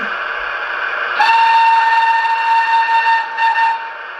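A long, sustained steam whistle from a Hornby King Edward V model locomotive's sound system sounds over a constant hiss, holding for about two and a half seconds before cutting off.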